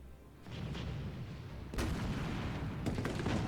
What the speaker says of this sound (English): The Tyrannis slowly advanced out of the depot, its turrets never ceasing their fire.